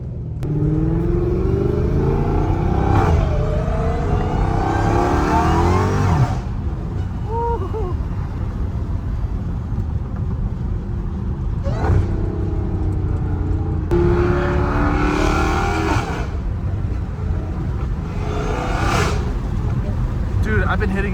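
Dodge Hellcat Redeye with a titanium exhaust rumbling loudly from inside the car, with steady engine drone and a few revving swells, while people talk over it throughout.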